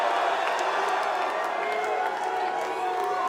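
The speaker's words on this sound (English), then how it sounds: "the crowd giving you a wall of noise for both of these men" A wrestling crowd at a Juggalo Championship Wrestling show roars steadily, a loud continuous wall of cheering and shouting with scattered claps and whoops that never lets up.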